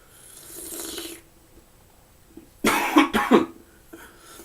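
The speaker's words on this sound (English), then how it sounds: "sorry, that cough was not from the pepper" A person coughs a few times in quick, loud, rough bursts after a softer breathy sound, during a tasting of a garden-grown White Bhut Jolokia chili pepper.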